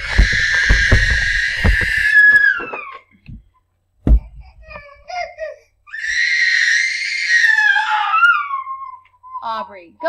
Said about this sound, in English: Hopefully she won't just stand there and scream.